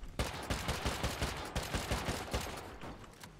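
Rapid explosive-ammunition gunfire in the survival game Rust, a dense stream of sharp cracking shots in quick succession, loud and continuous with no talking over it.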